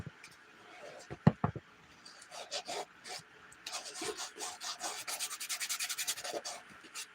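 A shoe being sanded by hand, scratchy rasping strokes that start sparse and become a quick steady back-and-forth rhythm, close and fairly quiet.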